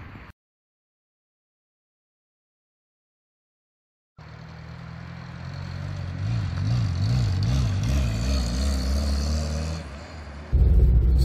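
A 1972 Hillman Super Imp Mark III car drives past, its engine note rising out of silence into a steady loud rumble with a wavering, revving pitch, then a sudden louder burst at the end.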